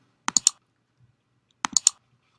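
Two quick bursts of mouse clicks, each a tight cluster of two or three sharp taps, close and clear, separated by about a second of silence; pressing the Apply button in database software while creating a schema.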